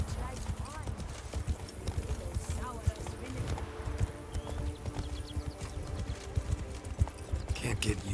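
Hooves of the horse Roach clip-clop steadily in the video game The Witcher 3, a close, continuous rhythmic trot under people talking.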